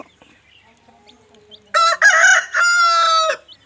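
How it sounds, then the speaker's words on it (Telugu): A Kathai-breed rooster about 3 to 3.5 kg crows once, loud and close: a drawn-out, strained call in two long segments after a brief quiet lead-in with faint background sounds. "ఇది మూడో పుంజు"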